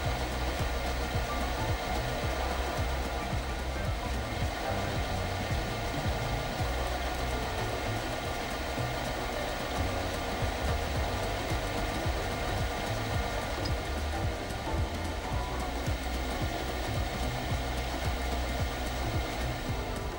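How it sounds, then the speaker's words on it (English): Lathe set up for division cutting a clock wheel, a continuous whirring machine drone with faint rapid cutting texture, steady and close for the full length with no voices. "The lathe is set up for division and wheel cutting as required, and then the cutter sends it on the work."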